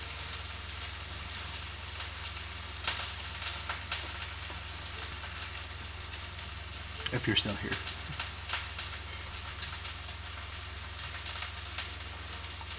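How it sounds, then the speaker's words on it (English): Chicken and mushrooms sizzling in a frying pan for a creamy parmesan garlic dish, a steady hissing crackle filling the background while a person talks quietly over it, with a brief louder stir or clatter partway through. "Probably hear that sizzling a lot more than you actually hear my voice."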